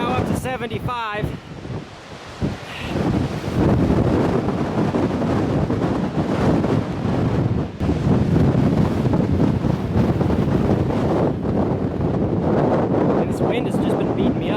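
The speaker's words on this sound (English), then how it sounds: "The wind gusts are now up to 75" Strong wind gusting up to 75 roars steadily into the microphone on an Arizona Trail hike, buffeting and rumbling loudly throughout with a few brief voice-like sounds early on.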